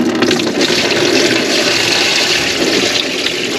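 Water gushing steadily out of a full automatic transmission pan on a Chrysler 300, a loud continuous splashing pour with no talk.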